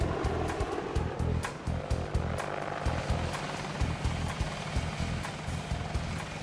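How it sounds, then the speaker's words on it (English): Apache Longbow attack helicopter heard as a steady, loud rotor drone with rhythmic low thumping blade beats and broadband engine roar running throughout, no talking. "It's the world's deadliest helicopter."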